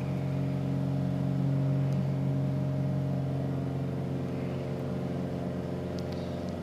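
Piper Arrow III piston engine in Microsoft Flight Simulator, held above 2,500 RPM in cruise at 8,000 feet, a steady droning hum with a strong low tone, constant and loud with no talk.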